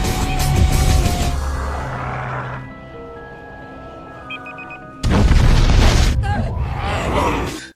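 Deep booming bomb blasts from a zombie action film play under a dramatic soundtrack. A loud, sustained roar drops to a quieter, tonal stretch, then a second heavy burst hits and rumbles on for several seconds.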